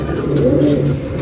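Pigeons coo loudly and close by, a steady low rolling call that carries on for about a second with no talk over it.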